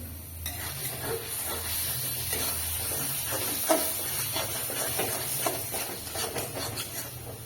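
Spice paste ground on a stone slab fries in a pan while being stirred, making a dense steady sizzle with frequent scraping strokes and occasional sharp spatters, close and with no speech.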